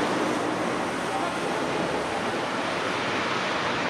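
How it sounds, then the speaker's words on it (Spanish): Strong wind blowing over the open sea with waves and surf, a steady loud broadband roar with continuous gusting wind noise on the microphone throughout. "el viento es muy fuerte"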